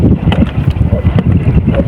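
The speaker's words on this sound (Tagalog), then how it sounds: "Lakas ng hangin." Strong wind buffets the microphone in rough, uneven gusts, a loud low roar pulsing throughout with no voices.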